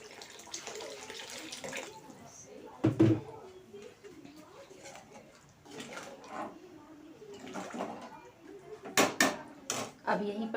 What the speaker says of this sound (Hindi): इसलिए मैं थोड़ी सी पानी और डाल देती हूँ।